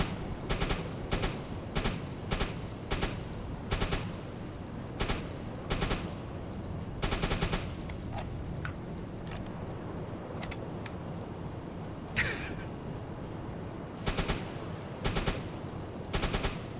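Naval guns firing high-explosive shells in a warship video game, heard as repeated short salvos of booming shots at a steady rhythm, several bursts spread across the stretch over a constant low background rumble.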